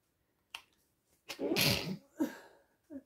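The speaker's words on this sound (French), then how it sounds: "Je suis dans mon garage et parfois la poussière, ça me fait éternuer." In a dusty home garage, a person gives a loud, close sneeze with a sharp intake and burst. Smaller breathy sounds and clicks come before and after it.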